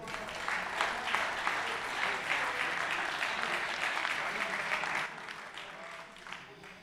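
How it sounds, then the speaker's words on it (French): Stadium crowd applause for a football defender at a title celebration for ESTAC Troyes, dense steady clapping for several seconds before fading to scattered claps. "Je vous demande d'applaudir le numéro 13, Gabriel Mutombo."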